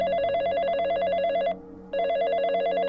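A telephone rings loudly and close by in a steady electronic warble, two bursts separated by a short pause.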